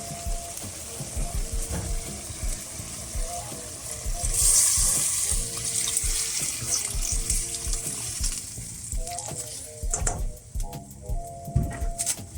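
Water is poured into a pot of pork stew with Italian sausage, a steady rushing splash over faint simmering and stirring, with clinks of utensils near the end.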